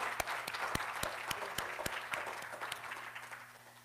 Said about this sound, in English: Can I ask you all to join me also for a round of applause